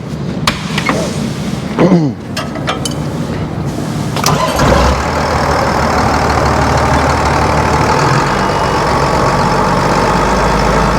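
A Tailift forklift's diesel engine cranks and fires up, then settles into a loud, steady idling rumble up close, with a few clanks and faint voices early on.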